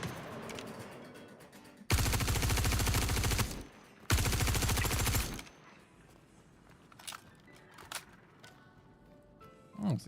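Two long bursts of loud, sustained automatic gunfire in Star Citizen, followed by scattered quieter single shots and clatter against a low background.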